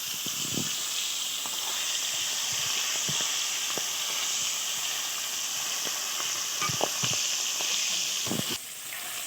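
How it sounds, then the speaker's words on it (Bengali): Pangas fish frying in its own rendered fat: an even, bright sizzle and hiss holds steady, punctuated by occasional soft pops and spatula taps, close and alone. "ওই তেল দিয়ে মাছটা ভেজে নেবো"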